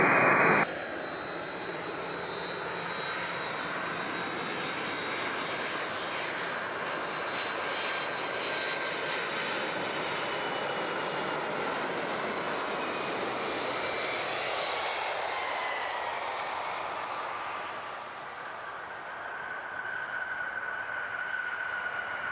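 An airliner lands on runway 14 at Zurich airport, its jet engine roar sustained and loud as it passes, then slowly fading and lowering in pitch toward the end.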